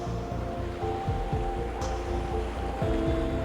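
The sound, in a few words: Chattooga River rapids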